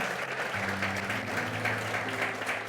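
A church congregation applauds loudly and steadily, a dense wash of clapping that fills the space without letting up, with no one speaking over it.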